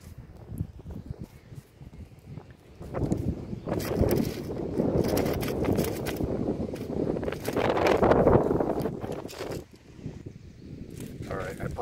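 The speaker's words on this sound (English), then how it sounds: "it's pretty damn windy out here" Wind buffets the microphone in rumbling gusts that swell and ease, with muffled voices and outdoor movement underneath.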